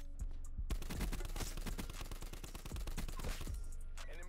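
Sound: gunfire in the video game Black Ops 4

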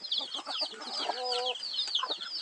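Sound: native chickens clucking

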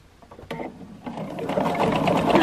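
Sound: sewing machine stitching a quilt

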